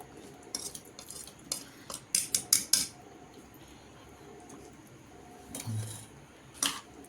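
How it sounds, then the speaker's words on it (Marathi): A metal spoon stirs chickpeas coated in chana koliwada spice batter in a bowl, giving a few quick clusters of sharp clinks and scrapes, close and quiet, with soft pauses between strokes. "आता चमचा घेतला चमच्याने करतात एकत्र"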